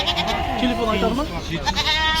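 A two-year-old ram bleats repeatedly at a Kyzylorda livestock market, its wavering calls fairly close and mixed in with steady crowd chatter and nearby people talking.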